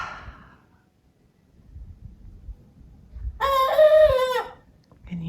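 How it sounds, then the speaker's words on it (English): A rooster crows once, loud and close, a long rising-then-falling call, after a quiet stretch with low rumbling background noise. "Turns out that Lucy is indeed a cockerel."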